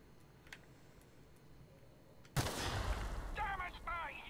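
A single loud gunshot from a gun in the video game The Outer Worlds cracks suddenly after a quiet lull, its echo ringing out, with faint game sounds around it.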